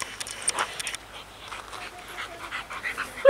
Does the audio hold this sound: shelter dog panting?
yes